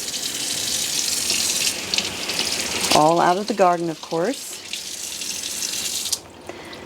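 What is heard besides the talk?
water running from new kitchen sink faucet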